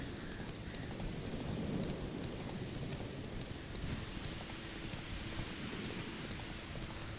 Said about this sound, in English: Ooh, I love the stormy weather.